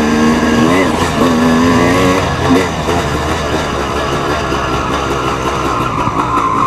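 A motocross bike's engine idles and revs after carburetor work at a dirt track, a loud continuous close drone with wavering pitch that rises and falls; a voice talks over it.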